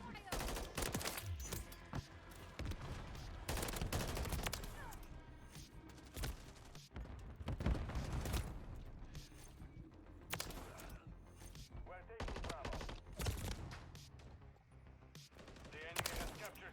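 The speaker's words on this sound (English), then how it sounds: "You either one-burst people, like I've been saying, or some goofy stuff happens" A Holger 556 rifle converted to burst fire shoots in Call of Duty MW3, with repeated loud bursts of gunshots in quick succession and short pauses between volleys.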